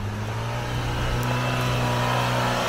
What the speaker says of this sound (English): this is called engine braking, because you can hear that motor winding up as it's spinning everything in the drivetrain